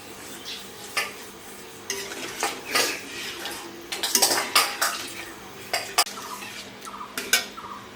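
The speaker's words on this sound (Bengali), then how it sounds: "নাড়িয়ে হারিয়ে নেব" Potatoes stirred in a pot with turmeric and salt water for a village-style egg and potato curry, a spoon scraping and clinking against metal in irregular bursts over a quiet background, close up, no speech.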